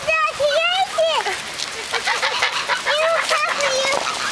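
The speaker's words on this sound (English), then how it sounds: "A herd of ducks and birds." Ducks and birds following a child give out loud, close quacking and honking calls in short bursts over a steady patter like rain.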